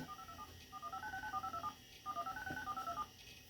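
Sound card test tones on a Northgate Elegance ZXP-486 computer: a sequence of electronic two-tone beeps plays in quick bursts, pausing briefly before a second run, moderately quiet with a faint hiss behind.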